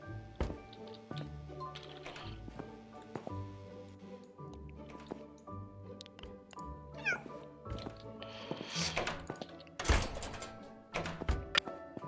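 A cat meows several times in the veterinary clinic of the video game Animal Shelter 2, over soft game music with small thunks and clicks.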